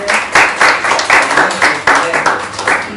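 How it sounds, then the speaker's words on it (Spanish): Students in a classroom clap together in a rhythmic, fairly loud pulse of repeated bursts, close and lively, with some voices mixed in. "démosle un aplauso a Iván."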